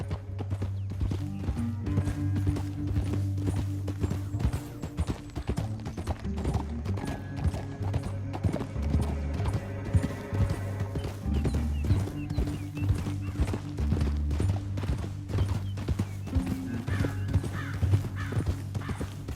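Steady hoof clip-clops from horses trotting in Red Dead Redemption 2, rhythmic and continuous throughout, set against low musical tones with no talking.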